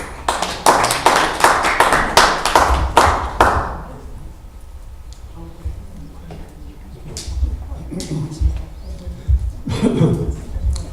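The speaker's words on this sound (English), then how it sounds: "Give a round of applause, please." Audience applause at an open-microphone event, a burst of dense clapping that fades out after about four seconds, followed by quiet room sounds and a few faint taps.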